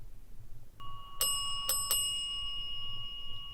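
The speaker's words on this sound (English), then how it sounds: "There's nothing around that bell" A small metal bell rings out sharply several times in quick succession, each strike leaving a clear lingering ring over quiet background noise.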